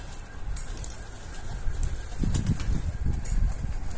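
Tumbler pigeon in a loft, soft low cooing notes repeating near the end over a faint hum, with a few light flutters and taps; no talk.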